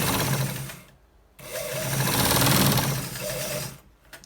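Sewing machine stitching a trouser back pocket, running in two loud bursts of steady rapid whirring separated by a brief pause, ending with a short stop.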